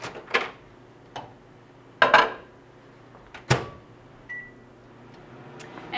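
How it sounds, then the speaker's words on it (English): A microwave oven hums low and steady, broken by a few sharp clicks and clatters and a brief high beep near the end. "And then we're going to put that in the microwave for 2 minutes."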